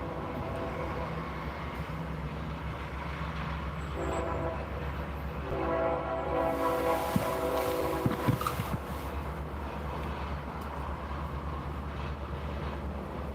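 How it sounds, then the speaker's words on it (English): A train passing near a roadside truckspotting spot, a low continuous rumble with steady rolling tones that swell in the middle and then ease, heard from a distance with no talk. "train is coming."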